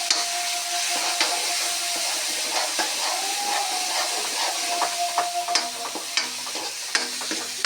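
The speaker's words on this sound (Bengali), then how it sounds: "মশলাও ভাজা হয়ে আসছে, তেল ছেড়ে ছেড়ে আসছে।" Spice paste of ground cumin, turmeric and chili fries in oil while being stirred, giving a steady close sizzle and hiss with scattered scraping taps of a spoon against the pan and no talking.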